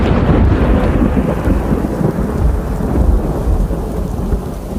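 Heavy rain pours down steadily while deep thunder rumbles through it, loud, dense and continuous with no voices.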